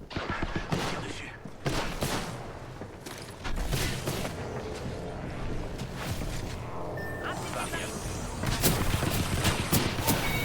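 Gunfire in the video game Apex Legends, with repeated bursts of automatic shots and loud sharp cracks mixed with mechanical clatter over about ten seconds, while players talk in French over the action.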